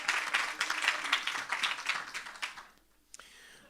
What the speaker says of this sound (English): can you please give a big round of applause to our president, Latita